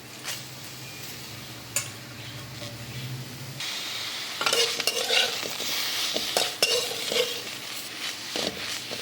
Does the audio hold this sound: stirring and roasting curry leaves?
yes